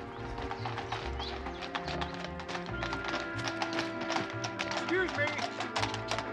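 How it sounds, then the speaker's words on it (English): A horse-drawn carriage clip-clops along in a period street scene, hooves and wheels rattling steadily as the carriage slows to a stop, with people talking over it. "Stop the carriage, Watson."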